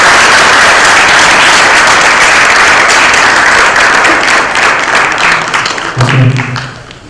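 Loud, dense audience applause at a Google Dev Fest 2014 talk, a sustained wash of clapping that thins and fades near the end as a voice briefly comes in.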